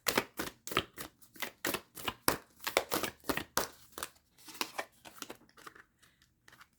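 Tarot cards shuffled by hand at close range, a run of quick crisp riffling and slapping bursts that come in uneven waves and fade toward the end, with no talking.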